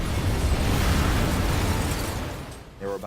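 A loud, sustained rumbling blast from a World War II destroyer exploding, shaking a whole city, filling the clip and fading slightly at the end as a brief voice cuts in.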